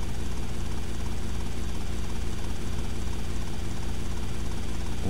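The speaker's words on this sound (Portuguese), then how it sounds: "aproveitar que tô com o helicóptero aqui" A steady, loud helicopter drone with rotor chop and engine whine in the video game GTA Vice City Definitive Edition, continuous and close, with no voices over it.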